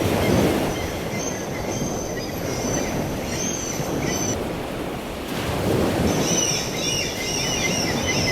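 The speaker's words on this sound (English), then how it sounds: "There was a profusion of gulls," Gulls call intermittently by the North Sea near Dunnottar Castle, scattered cries over a steady roar of surf and wind, with no talk.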